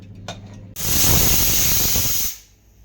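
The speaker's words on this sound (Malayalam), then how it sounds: "നമുക്ക് വീണ്ടും കുക്കർ അടച്ച് വെച്ച് 2 വിസിൽ വരുന്ന വരയ്ക്ക് വേവിക്കാം." A pressure cooker of Thrissur style beef and plantain lets off a loud, close burst of hissing steam with a thin whistling edge, lasting about a second and a half before it dies away.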